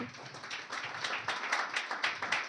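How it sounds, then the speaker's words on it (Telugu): A church congregation at a New Year service claps together in a dense, continuous patter of many hands, fairly faint and slightly distant. "గట్టిగా చప్పట్లు కొట్టండి అందరూ"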